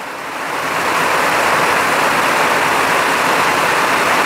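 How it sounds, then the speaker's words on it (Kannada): Heavy, unbroken rain during a days-long downpour in Ankola, a dense roaring wash that swells in over the first second and then holds loud and steady, with no voices. "ಯಾವ ಥರ ಮಳೆ ಬರ್ತಾಯಿದೆ ಅಂತಂದರೆ ನಾನು ಮಾತಾಡೋದೇ ನಿಮ್ಗೆ ಕೇಳಿಸ್ತಾ ಇಲ್ಲ"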